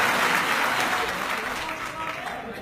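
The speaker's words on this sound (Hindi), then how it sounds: "जोरदार तालियों से उनका स्वागत किया जाए" A crowd at a political gathering claps loudly to welcome Indian political leaders, dense, continuous applause heard close, with a murmur of voices underneath.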